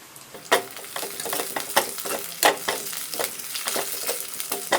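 Two sprigs of curry leaves sauté with small onions in hot tempering oil for sambar, giving a steady crackling sizzle punctuated by sharp rhythmic scrapes of a spoon against the pan.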